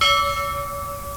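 A short notification bell sound effect chimes once with clear ringing tones that fade over about a second, alone without speech.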